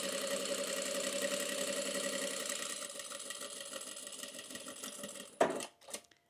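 A sewing machine stitches the slip pocket of a cotton tote bag, a steady fast mechanical whir and rattle running near and loud for about five seconds, then stopping, followed by a few brief handling clunks and quiet shuffles.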